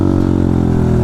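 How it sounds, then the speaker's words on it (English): A pit bike with a straight pipe exhaust engine braking, its loud steady engine drone with rich low harmonics sustained close up for a second, with no voices. "We're engine braking"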